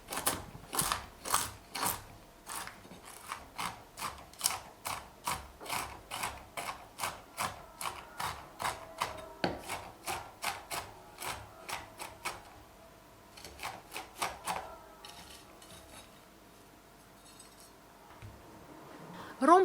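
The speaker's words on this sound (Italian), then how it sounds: "Sminuzzo le noci tostate in precedenza e raffreddate." Rapid rhythmic knocks of a knife chopping toasted walnuts on a board, a steady run of sharp taps that pauses, then resumes in shorter bursts.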